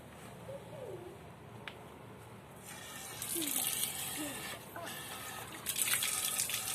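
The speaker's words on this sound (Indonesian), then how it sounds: "kita cek dulu pakai air, apakah bocor" Water poured into a patched cooking pot to test for leaks, a steady splashing and trickling stream that grows louder and brighter partway through, with faint bird calls in the background.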